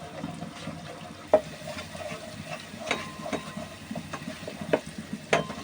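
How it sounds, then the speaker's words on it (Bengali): An egg fries in a pan of spiced chicken for spicy pasta, giving a steady close sizzle broken by sharp pops and crackles, with no voices. "এই যে ডিমটা ভাজা হয়ে গেছে"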